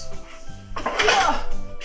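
A cooking pot is handled in a kitchen, with a short metallic clatter and clunk of cookware mid-clip over a low background hum.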